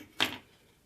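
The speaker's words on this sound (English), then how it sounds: "snip it off" A single crisp snip of scissors cutting sewing thread beside a sewing machine, one short close click and then quiet.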